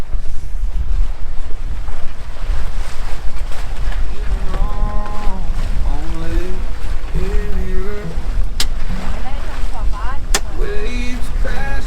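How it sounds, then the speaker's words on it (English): Ocean waves crash and wind rushes past a sailing boat in a steady, loud wash of noise, with melodic tones rising over it midway through. "Waves crashing"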